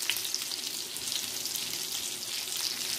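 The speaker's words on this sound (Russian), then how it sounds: "Скворчат, гады," Pearl barley cutlets sizzle steadily in a frying pan, a continuous close hiss and crackle with small pops, with no voices over it.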